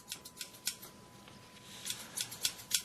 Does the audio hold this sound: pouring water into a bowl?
no